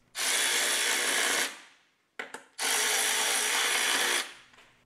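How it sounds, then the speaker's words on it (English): A power drill bores holes in a race car's dashboard fascia during a hatchback race build, with two sustained whirring runs close by and a short, rough burst between them. "All I've got to do is drill holes in the fascia, make standoffs for the bolts, and screw it all together."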